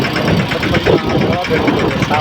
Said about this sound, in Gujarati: અને યુવરાજ ટ્રેક્ટર છે